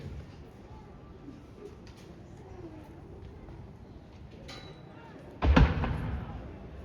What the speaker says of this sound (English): We've had the first fire from the British from the Queen's Bridge